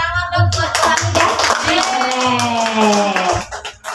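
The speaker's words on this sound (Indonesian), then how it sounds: "Oke, beri tepuk tangan dong buat Hamidah." A group of teachers claps hands over a lively mix of voices at a school presentation, the claps close and uneven, with people talking throughout.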